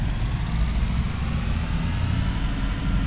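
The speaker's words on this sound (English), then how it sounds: "It's idling kind of high this morning." A Chevy truck engine idles a little high in the morning, a steady low rumbling drone with a constant throb, close and loud throughout with no talking.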